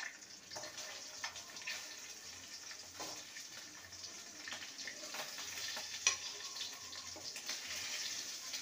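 Eggs fry in a pan with a soft, steady sizzle, quiet and close, broken by occasional light scrapes and taps of a utensil.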